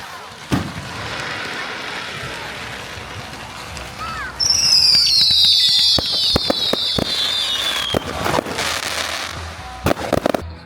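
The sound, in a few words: fireworks bursting overhead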